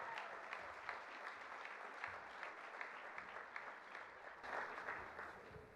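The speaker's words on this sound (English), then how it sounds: "Let's give him a round of applause as he comes to the stage," A dinner crowd at a 2023 annual gala applauds steadily as a speaker walks to the stage, a dense, even wash of clapping from many hands that holds at a moderate level throughout.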